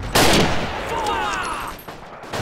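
Gunfire in the World War II multiplayer shooter Forgotten Hope 2 on the Tunis map: a sharp burst of shots and rattling fire in a busy, noisy battle, with a second volley near the end.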